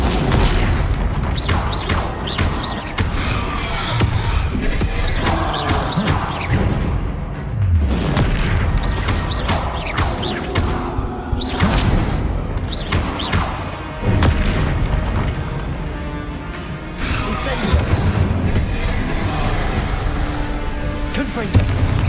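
Incendio fire spells and combat blasts from Hogwarts Legacy erupt in repeated booming bursts, loud and dense with crashing impacts layered over a continuous game soundscape.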